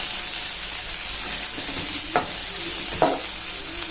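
Medium tomato and onion fry in a pan with a steady, even hiss, broken by two short spoon scrapes against the pan, close and alone.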